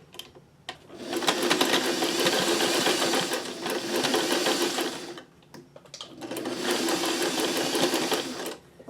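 Sewing machine running zigzag stitches on a top-stitched fabric piece, two steady loud whirring runs separated by a short pause, with no talk.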